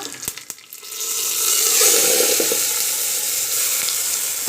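Loud, steady sizzling of ground masala frying in hot oil on a stove, starting after a few sharp clatters and continuing without pause.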